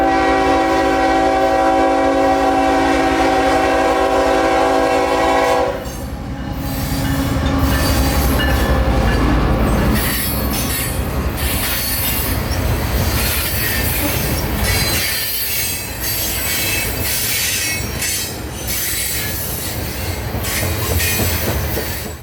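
A train horn blares steadily for several seconds, then a long freight train of covered hoppers rumbles past in Florida with squealing wheels and clattering cars, loud and close.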